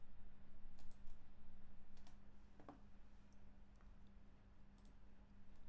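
A computer mouse gives a few sparse, faint clicks, spaced unevenly over a low steady hum in a quiet room.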